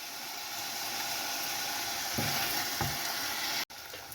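Thyme, bay leaf and coriander seeds fry in a pan with a steady, close hissing sizzle, broken by a couple of brief stirring scrapes before the sound cuts out for a moment near the end.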